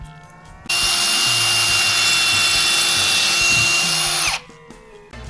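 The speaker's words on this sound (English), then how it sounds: "is for drilling and making holes" A loud power drill runs continuously for about four seconds while drilling a pilot hole into a wall, a high steady whine with a rough grinding edge, starting and stopping abruptly.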